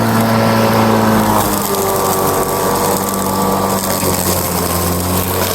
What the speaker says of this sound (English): my mower has no problem with the super long grass